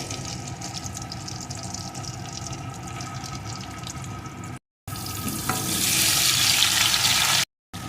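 Taro stems tipped into hot oil for a Hilsa fish curry, a steady sizzle that swells into a louder, brighter frying hiss partway through, with broken-off gaps.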